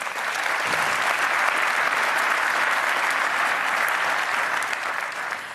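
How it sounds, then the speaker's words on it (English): An audience at a business talk event with Sir Richard Branson breaks into sustained, loud applause, a dense even roar of clapping that fades slightly at the end. "There was a lot of applause there."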